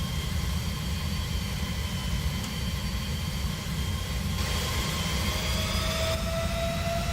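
Continuous whine and roar of Boeing 767 jet engines in a flight simulator, a steady broadband hiss over a low rumble, with thin tonal lines that drift and shift partway through, no talking.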